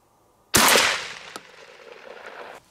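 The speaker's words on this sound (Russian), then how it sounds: "Второй выстрел." A single loud shotgun blast close by from a Beretta Belmonte at a target, with a sharp crack followed by a short echoing tail that fades over a couple of seconds.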